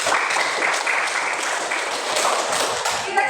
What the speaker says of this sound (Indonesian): Tepuk tangan untuk Samia.